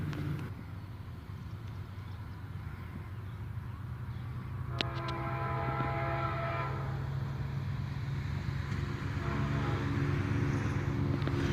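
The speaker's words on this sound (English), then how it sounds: "another train finally arrived" A southbound freight train passes at sunset, its low rumble building and holding steady, with a sharp horn-like tone partway through, heard from a trackside spot at moderate distance.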